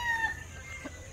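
Farm chickens cluck briefly nearby, a few short calls over a faint steady background, with no voices.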